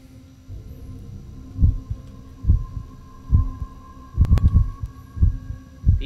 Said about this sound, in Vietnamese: có tiếng tim đập ấy nhưng mà xong lại mất